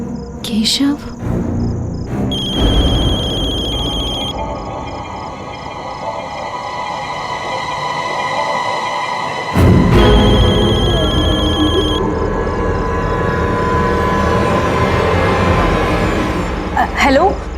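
Telephone ringing indoors in a tense domestic drama scene, a repeating electronic ring that cuts in and out in bursts over a steady background, with a louder ring section near the end.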